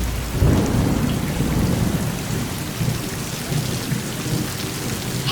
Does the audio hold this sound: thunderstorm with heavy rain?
yes